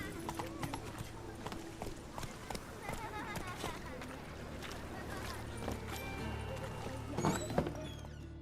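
Roach the horse from The Witcher 3 clip-clops along at a steady walking pace, hooves sounding close and rhythmic under background game ambience and occasional voices.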